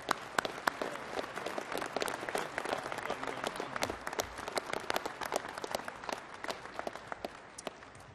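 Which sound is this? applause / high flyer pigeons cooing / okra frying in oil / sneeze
applause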